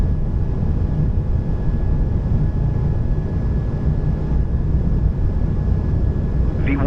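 A brand-new Air Baltic Airbus A220-200 roars at takeoff thrust, heard from the cockpit as a loud, steady engine and airflow rumble without a break.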